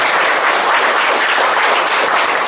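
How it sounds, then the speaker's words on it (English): An audience applauds the team that just performed an earthquake mock drill at a school in Lakhipur, Cachar, Assam: dense, steady clapping from many hands, loud and close, with no voices over it. "I would like all of you, जोर से clap बजाइएगा इनके लिए, motivate them"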